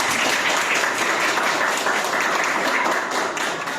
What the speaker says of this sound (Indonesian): Aplaus dulu buat kita semua.